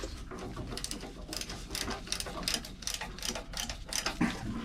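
A ratchet wrench clicks in quick, uneven bursts close by as a nut and bolt are worked loose from a motor mounting plate on a boat, with no talking.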